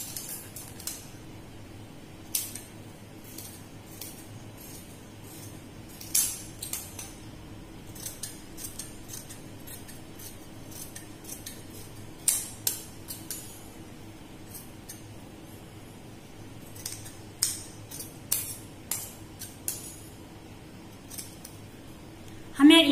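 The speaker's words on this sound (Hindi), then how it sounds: "अब इसकी हम कटिंग कर लेंगे।" Scissors cut through kurti fabric while shaping a collar kurti: crisp, irregular snips and blade clicks close up, scattered across the stretch with quiet pauses between cuts and a few louder closes.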